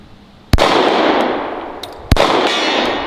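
Two sharp gunshots ring off a steel ram silhouette target on a shooting range, each a loud crack followed by a bright metallic clang that hangs and decays, spaced about a second and a half apart.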